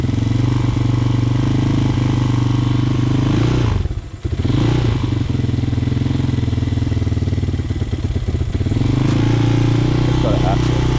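A Hawk 250cc motorcycle engine runs on full choke at a fast, steady idle. It dips sharply around the fourth second, then recovers, with some scraping clatter later. It is close and loud.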